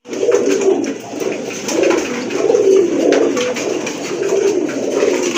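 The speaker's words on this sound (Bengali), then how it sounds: "খুবই সুন্দর এক জোড়া কবুতর, আসলে দেখার মতো বিগ সাইজের কবুতর" A pair of big-sized fancy pigeons coo close by in repeated low, throaty rolling calls, one after another with no pauses, clear and loud with no voices over them.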